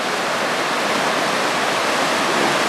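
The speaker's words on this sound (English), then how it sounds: "The water's just coming straight up out of the ground there," Spring water wells straight up out of the ground at the main source of a spring feeding the Eleven Point River, a steady, loud, broadband rushing wash with no pauses and no voices.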